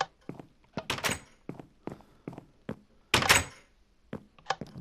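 Doors in the video game Minecraft open and close in a string of wooden thunks and clacks, some sharp and loud, spaced irregularly with no talking.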